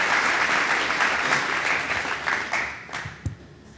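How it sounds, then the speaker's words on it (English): An audience at a water-conservation summit applauds a presenter, a dense round of clapping that holds steady and then tapers off to a few scattered claps at the end. "let's give another big round of applause for Dr. Adams"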